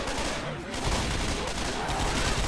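Dense, rapid gunfire rattles in Left 4 Dead 2 multiplayer, overlapping bursts of close shots forming an unbroken loud barrage with no pauses.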